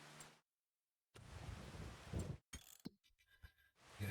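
Rain and a thunderstorm in a farming video game play as bursts of steady rain hiss and rumbling thunder, broken by brief gaps of silence, with no talking.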